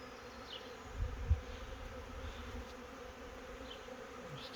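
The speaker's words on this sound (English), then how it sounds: "They seem to say it was a big swarm." A big honey bee swarm settling into a hive in a bee house makes a steady, dense buzz with a couple of louder low thumps early on.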